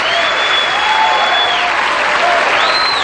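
Studio audience at a 1984 Star Search taping applauding loudly and continuously, a dense wash of clapping with a few whistles rising above it.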